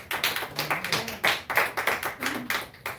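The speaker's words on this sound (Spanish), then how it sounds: "Denle un aplauso al Señor Jesús." A church congregation claps steadily, with a dense run of sharp, evenly repeated hand claps filling the whole stretch, fairly close and with no talk over it.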